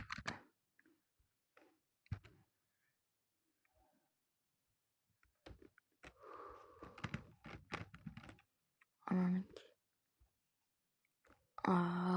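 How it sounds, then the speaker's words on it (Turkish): Close-up computer keyboard typing while playing Minecraft, in scattered bursts of crisp key clicks, with quiet gaps between and a few louder thunks near the end. "klavyenin sesi çok geliyorsa kusura bakmayın"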